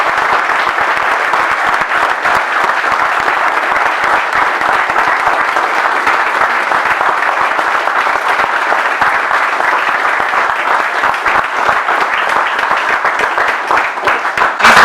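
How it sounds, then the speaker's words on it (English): Sustained, loud audience applause at a belt promotion ceremony, honoring a student's mother; a thick, even roar of many hands clapping continuously for the full stretch without letting up. "Let's clap it up for Mom."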